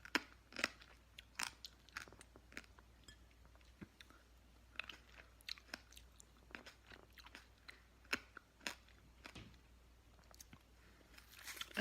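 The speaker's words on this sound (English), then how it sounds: "I'm eating crunchy grapes." Crunchy seeded grapes being chewed close up, with a quick irregular series of sharp crisp crunches and bites over a quiet background.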